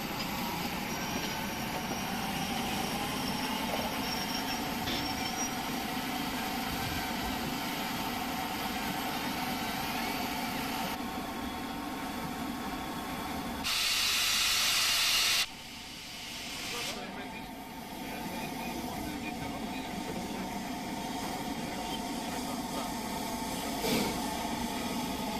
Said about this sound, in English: The train backs into a siding in order to pick up water supplies.